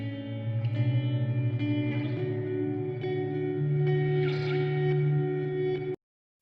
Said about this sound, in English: Reverb is now at 100, and you see how big this has gotten.